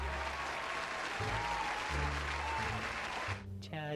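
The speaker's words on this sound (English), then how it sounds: "Nice little round of applause for that one." Steady, dense applause from a crowd with a musical backing underneath, fading toward the end as a tonal sound rises.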